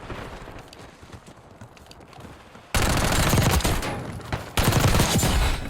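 Gunfire in a first-person shooter game, beginning with faint, distant crackling shots and then abruptly turning into loud, dense automatic fire bursts up close, with one further jump in intensity near the end and no talking.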